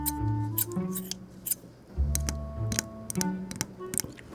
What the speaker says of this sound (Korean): 그리고 이거는 가위인데요.